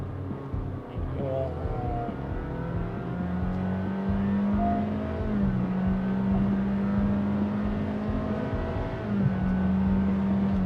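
A car engine drones steadily with a rising and settling hum, heard from inside the car under sustained acceleration.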